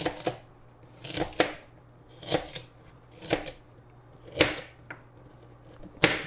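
A knife chops through carrots on a cutting board in sharp, distinct strikes, often in quick pairs, spaced about a second apart, close and clear with no talking.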